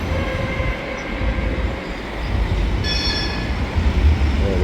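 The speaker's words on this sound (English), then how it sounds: "This is the tram which is coming." A tram arrives on a rainy Budapest street, a loud rumbling roll with rail hum and a brief high wheel squeal, heard close from the roadside.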